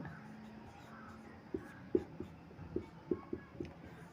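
A pen or chalk writes out an equation by hand, a string of short scratching strokes and taps close by in a quiet room, growing more frequent over a few seconds.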